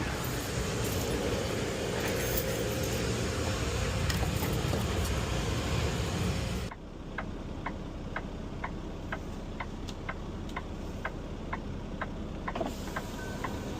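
A flatbed truck backs out of a tight street: a loud, steady engine drone fills the first half, then drops away to a quieter idle with a regular ticking signal clicking about once a second.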